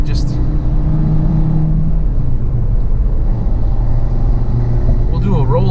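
A Stage 2 Audi RS3 running on E85 accelerating hard, giving a loud, continuous engine roar with a droning low tone that climbs in pitch near the end. Voices are faintly audible beneath it.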